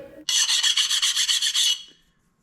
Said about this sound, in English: we're just gonna take a file and knock those off